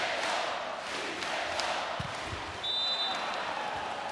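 A packed volleyball crowd roars continuously inside the Ergo Arena during a Poland versus France match, a broad steady wash of cheering with a few thumps and a whistle-like tone near the end.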